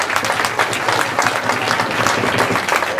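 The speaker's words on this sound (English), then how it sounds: "And just give them one more clap" Audience at a band's final gig applauds loudly and densely, a close, continuous roar of clapping hands that stays steady throughout.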